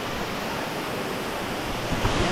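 Water rushes steadily along a mountain river in St Mary, Jamaica, a close, broad roar of flowing water with some wind buffeting on the microphone.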